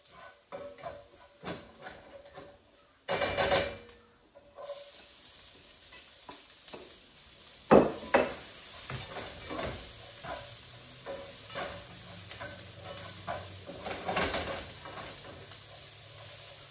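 Garlic filling for siopao, cooked with liempo, sizzles in a pan with repeated spatula stirs and scrapes, a few louder bursts of hissing standing out against the steady frying.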